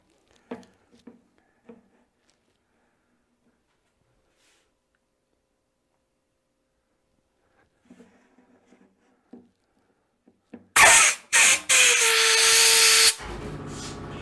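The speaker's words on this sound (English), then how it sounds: "And now we'll take the air hose" A compressed-air hose blasts loudly in a workshop while making a pizza cutter handle, a sudden hissing rush with brief breaks, following a stretch of quiet handling noises.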